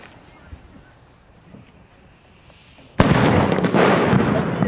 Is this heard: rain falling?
no